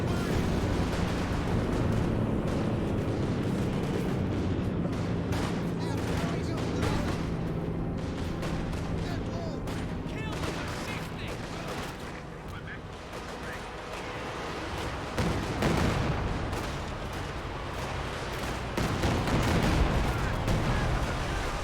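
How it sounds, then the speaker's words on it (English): Katyusha rocket artillery barrages in the real-time strategy game Company of Heroes 2, a dense run of rumbling blasts and crackling gunfire layered over each other, loud and continuous, with heavier impact bursts near the end. "The Katyusha rockets largely did nothing."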